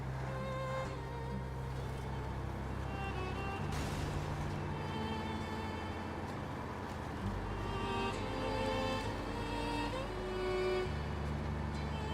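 Truck engine in the SnowRunner video game, a steady low droning motor whose pitch steps up and down in several distinct shifts while running at constant speed, with brief talk over it.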